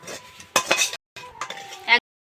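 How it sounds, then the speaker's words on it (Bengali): Egg chicken chowmein being fried and tossed in a pan: two short bursts of metallic scraping and clinking from a utensil against the pan, separated by a brief pause, close and fairly loud. "এখন এটা একই রকম ভাবে আমি চাউমিনগুলো ভেজে নেব"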